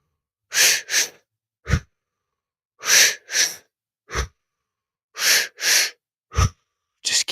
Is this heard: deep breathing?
yes